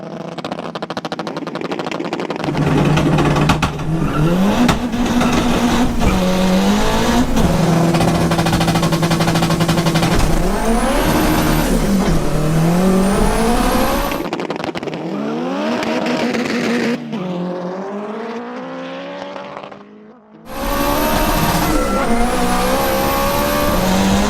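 Tuned street cars drag racing, engines roaring loud and close with rising revs through repeated gear shifts, brief drops between pulls, and one car's engine cutting out before another screams back in.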